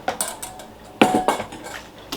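A hand-cranked food mill working through cooked tomatoes for pizza sauce gives close metallic clicks, scrapes and clanks in an uneven rhythm, with one sharper ringing knock partway through and no voices.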